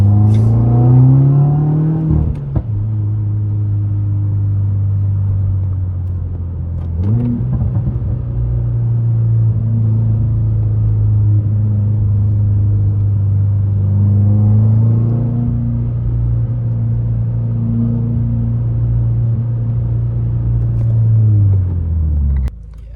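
A 2020 Subaru WRX with a stick shift, driven in second gear, gives a loud, close engine drone that climbs in pitch, drops at a shift, then rises and holds steady before easing off, with no talking.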